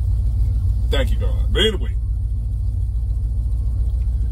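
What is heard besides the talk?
interior rumble of a 1966 car with air conditioning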